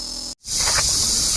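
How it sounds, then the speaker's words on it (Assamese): A jejeri insect in an Assam forest gives a loud, steady high-pitched buzzing drone that runs almost unbroken, briefly cut by a short gap of silence before resuming at full strength. "দেখাত পোকটো সৰু, কিন্তু চাউণ্ডটো বহুত ডাঙৰ।"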